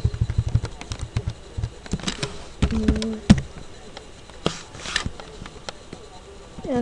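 Typing on a computer keyboard while programming in DOS, with irregular bursts of close key taps and clacks, some louder strikes, under a faint room hum with a little background voice.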